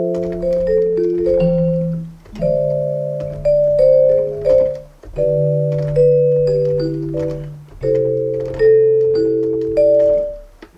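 Piano plays a beat's chord progression with a simple melody on top, sustained chords changing every few seconds under a repeating line, close and clear with faint light clicks, no voices.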